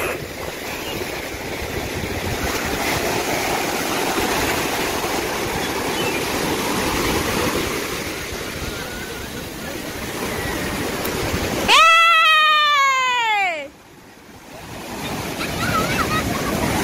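Ocean surf at a beach where people are bathing, a loud continuous roar of breaking waves and wind buffeting the microphone, briefly cut by a sharp descending electronic chirp before the surf returns.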